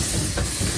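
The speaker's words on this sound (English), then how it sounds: "the steam popping out everywhere" A steam train vents a loud, continuous hiss of steam at close range, broad and steady for its whole length.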